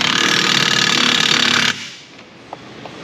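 An impact wrench hammers a bolt tight on a Honda strut during a strut replacement, a loud steady rattling burst lasting under two seconds before it stops and a couple of faint clicks follow in the quiet.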